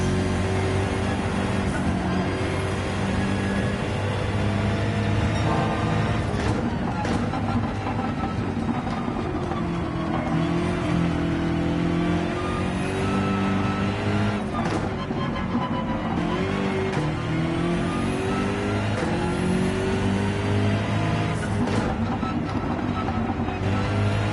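Gr.3 race car engine in Gran Turismo 7 during a hot lap, droning loudly and steadily throughout with rising and falling revs through gear changes and occasional tire squeal, no talking.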